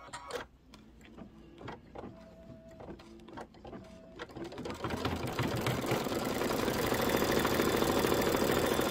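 An embroidery machine stitches a bench buddy pillow: rapid mechanical clicking and whirring that grows into a louder, continuous, dense run of needle strokes toward the end, close and alone.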